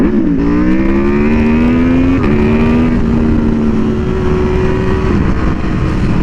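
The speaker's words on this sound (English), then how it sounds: "Oh, I forgot to rev bomb for him." An Aprilia Tuono V4R motorcycle engine runs loud and close, its tone climbing and dropping in stepped revs over a constant, heavy roar.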